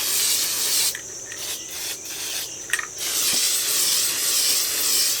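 Testors Craft fabric spray paint hisses steadily from an aerosol can onto a pillow, with a few short pauses between passes, close and fairly loud, no voices.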